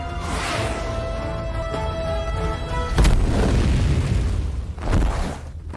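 A sudden loud explosion booms over a low rumbling drone, followed moments later by a second heavy blast.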